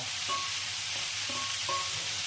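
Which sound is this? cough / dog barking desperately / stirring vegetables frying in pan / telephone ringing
stirring vegetables frying in pan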